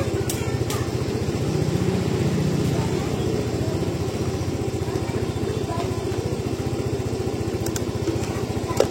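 A small 2 HP motorcycle engine runs steadily nearby with a fast, even chugging rhythm and a buzzing mechanical hum throughout.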